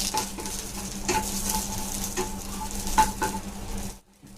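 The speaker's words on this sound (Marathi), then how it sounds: "तो कांदा आता थोडासा भाजून घेते हलका. हलकासा ब्राऊन करून घ्यायचा आहे मीडियम गॅसवरती." Chopped onion fries gently in a pan over a medium gas flame, a steady soft sizzle broken by occasional taps and scrapes of stirring.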